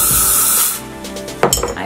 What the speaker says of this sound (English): start spraying the spray on the brush